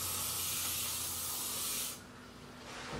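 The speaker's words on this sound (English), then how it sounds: "I like to get some hairspray in it just as it's setting." Hairspray aerosol sprayed onto hair during curling: a loud, steady, close hiss for about two seconds, then a quieter softer hiss afterward, with no speech.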